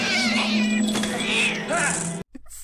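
A cat yowls and caterwauls in a film attack scene on a man, loud and close over a busy soundtrack with voices, then breaks off abruptly into near silence.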